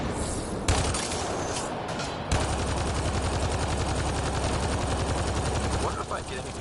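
Sustained rapid automatic gunfire from a turret in the video game Mass Effect Andromeda, loud and dense, starting after a brief burst and continuing steadily to the end.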